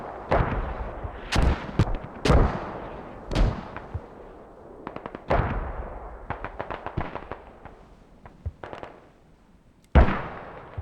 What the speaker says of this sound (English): Ah, the mortar.